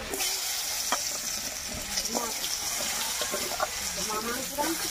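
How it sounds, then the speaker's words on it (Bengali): Long-cut potato strips fry in oil left over from frying snakehead fish, a continuous crackling sizzle broken by sharp clinks and scrapes of stirring, close up with no speech. "একই তেলে আলুগুলো ভেজে নেব"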